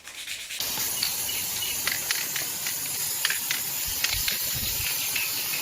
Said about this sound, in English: This is very fine grade sandpaper. It's just ruffling the edges